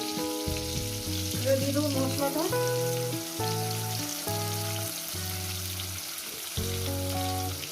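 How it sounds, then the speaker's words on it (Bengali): Tomatoes frying in a pan give off a soft, steady sizzle with light stirring, faint and partly under background music, with no voices. "টমেটো আমি ভেজে নিয়েছি"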